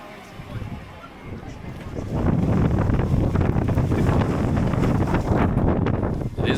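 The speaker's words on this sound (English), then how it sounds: "It's a really windy day" Steady wind buffets the microphone on a street in Japan with a low, rushing roar that grows stronger and stays loud.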